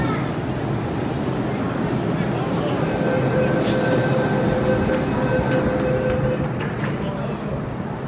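A metro train stands at Sheung Wan Station platform with a steady rumbling hum, a rising whine and a hiss of releasing air, while people talk nearby.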